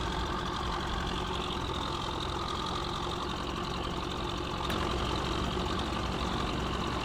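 Tractor engine idling steadily in the video game Farming Simulator 15, a constant rumbling drone with a slight knock, holding an even level and rising a little toward the end, with no talking.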